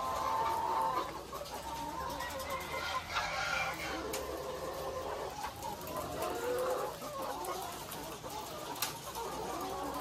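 A flock of newly arrived Dekalb White laying hens clucks and squawks continuously in their cages, a dense, busy chorus of overlapping calls with a few sharper cries standing out.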